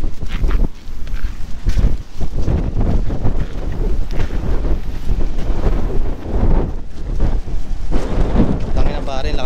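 Strong wind buffets the microphone at a beach resort on Jomalig Island, a loud, continuous roaring rumble with gusty surges throughout.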